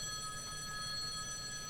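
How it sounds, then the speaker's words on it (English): Telephone ringing in Kentucky Route Zero, a sustained electronic ring with bright steady tones over a low background hum, continuous across the clip with no talk. "A phone call."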